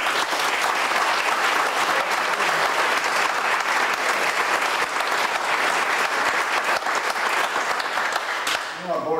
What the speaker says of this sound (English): he needs an applause of appreciation